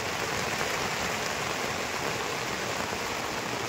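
Heavy rain falls outside on farmland, a steady broadband roar of water that stays constant throughout, close and uninterrupted, with no voices.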